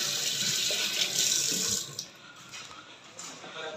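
Water gushes steadily from a tap at a construction job site, a loud close hiss that cuts off after a couple of seconds, leaving quieter room tone with faint background noise.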